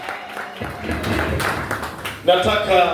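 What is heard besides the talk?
church congregation clapping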